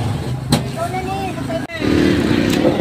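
A kuliglig motorbike hauler engine putters nearby in busy Divisoria market, a steady low motor drone under market chatter and voices, with a brief dip before the engine noise swells again.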